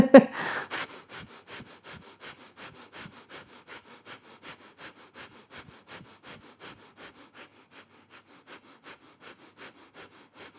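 Forceful yoga breathing pushed rapidly through the nose, a steady train of sharp, close puffs at roughly two or three per second that carries on evenly and eases slightly in strength toward the end, with no talking.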